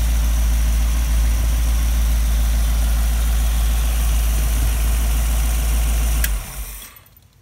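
A small block Chevy V8 idles in a 1928–1931 Model A Ford hotrod chassis, a loud deep steady rumble close by that cuts off near the end and fades quickly into quiet.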